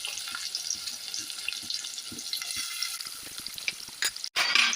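Oil crackles and sizzles steadily in a pan while frying ingredients for mochai kulambu, a bean curry, a dense hiss with small pops, ending in a brief louder burst.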